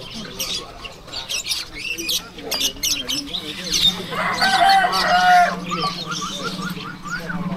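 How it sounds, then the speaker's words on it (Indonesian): Many caged birds chatter, squawk and chirp at a busy pet and flea market in Jatinegara, with people talking and crowd noise throughout; a denser burst of calls swells near the middle. "Ini banyaknya burung di sini nih"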